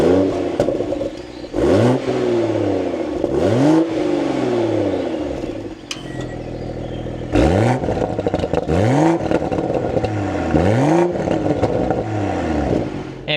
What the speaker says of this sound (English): let's fire this up. Take a listen to how it sounds